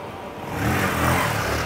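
A single motorbike engine passing along a busy street in old Baku, Azerbaijan. The engine revs with a rising hum that gets louder midway, then holds steady, close by, over general street noise.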